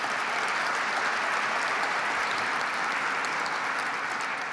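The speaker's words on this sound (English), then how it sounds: "Let's give them a round of applause." An audience at a public event with New York's governor and the MTA chair breaks into sustained, even applause. The dense clapping holds steady throughout at moderate distance, with no voices over it.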